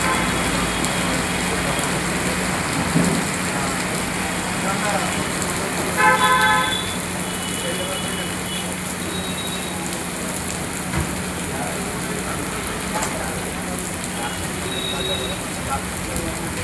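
Rain pours over city traffic in Secunderabad and Begumpet, a steady loud hiss of falling water with car horns tooting now and then, under a voice speaking over it.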